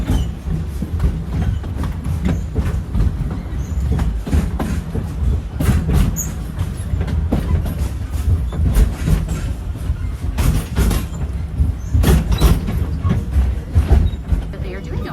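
A safari ride train at Animal Kingdom rolls along its track with a continuous rumble and rhythmic clicking and clattering of wheels, a close, steady mechanical din, with a voice talking over it.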